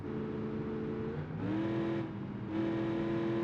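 Engine of a car driven in a racing video game, played on a SteelSeries Stratus XL controller, holds a steady harmonic drone that steps up in pitch twice as it revs through gears, continuous and fairly loud with no talk.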